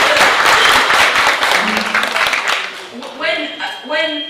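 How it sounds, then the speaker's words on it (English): Audience clapping at a business breakfast event, a dense burst of applause filling the first few seconds and then thinning out as a voice begins talking over the fading claps. "Clap hard."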